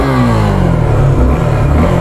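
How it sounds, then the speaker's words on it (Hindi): A Suzuki Gixxer SF250 motorcycle revs, its exhaust note loud and close, with a continuous rising and falling drone that has no talk over it. "सबसे पहले भाई आपको इसका एग्जॉस्ट नोट सुनाता हूँ"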